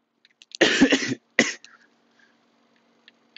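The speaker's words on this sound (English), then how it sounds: "It's just a cough, don't worry." A person coughs twice, a harsh rasping burst followed by a shorter one, close and clear against near silence.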